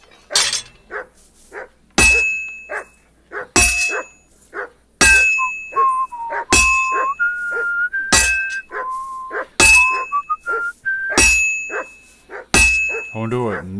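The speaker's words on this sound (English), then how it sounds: "I wonder what Mud is barking about." Mud, a dog in Kingdom Come: Deliverance, barks in short repeated yaps among loud, regularly spaced ringing metallic strikes, as if hammering at a blacksmith's anvil, with some whistle-like tones drifting between them.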